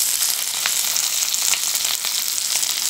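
Fish fillets fry in hot oil in a pan, giving a steady, close hiss with small crackles and pops throughout and no talking over it.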